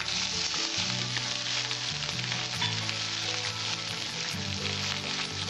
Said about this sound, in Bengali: এবার আমি পেঁয়াজ বাটাটা দিয়ে দিচ্ছি।